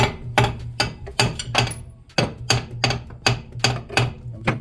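Hammer blows tapping at a stuck part on a Simca flathead V8 engine, a run of sharp metallic knocks in irregular clusters of two or three, close and loud with short gaps between, no talk.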